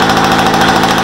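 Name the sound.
moped engine running, Motobécane 103 warming up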